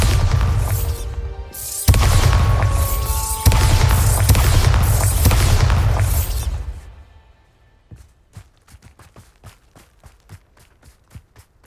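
A Bombarda spell blast in Hogwarts Legacy gives a loud, sustained roaring explosion with crackling bursts that fades out after several seconds, then a string of quiet sharp taps follows.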